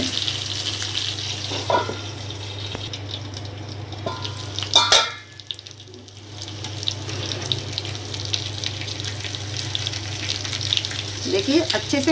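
Stuffed capsicums (shimla mirch) filled with potato fry in a pan, giving a steady close sizzle with scraping and stirring noises as they are turned, one sharp clatter midway, and a short quieter patch before the sizzle returns.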